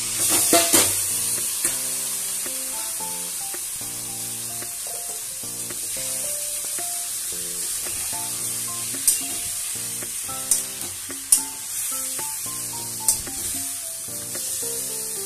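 Meat frying in a kadai with whole spices (garam masala, cinnamon, cloves and chillies) fills the space with a steady close sizzle, broken by stirring scrapes and several sharp clinks of a spoon against the pan.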